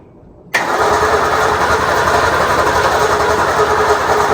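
A 1961 Mercury Comet engine turning over on the starter with failed compression, a loud steady cranking drone that kicks in abruptly after a brief quiet moment and holds evenly for about four seconds.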